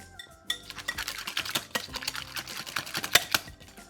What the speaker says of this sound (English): I should grab my whisk back here. So I want to get this as smooth as possible.